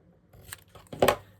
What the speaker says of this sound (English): So I'm just going to cut these off,